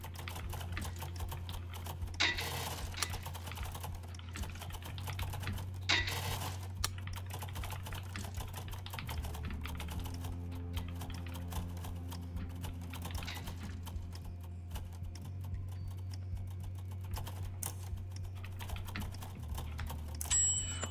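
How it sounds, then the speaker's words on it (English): Fast typing on a computer keyboard while playing a typing game, a steady stream of quick light clicks running continuously under a low background hum. "I taught myself touch typing"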